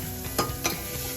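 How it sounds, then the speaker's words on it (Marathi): Tomato and onion puree fries in hot oil with a soft, continuous sizzle, broken by two brief scraping stirs of a spoon near the pan; no speech. "जे टोमॅटो आणि कांदा प्युरी करता ते भाजून घ्यायचं आहे अगोदर."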